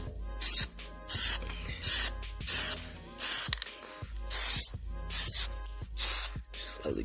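Plasti Dip aerosol sprayed onto a Honda Civic in repeated bursts, about eight loud hissing spurts of roughly half a second each, separated by short pauses and faint clicks of the nozzle.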